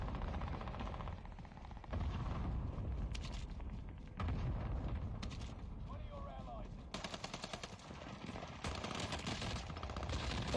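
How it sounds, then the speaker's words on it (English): Rapid gunfire from the video game Warzone, dense bursts and booms running throughout, loud and continuous, with people talking over it. "Did you shoot Danny?"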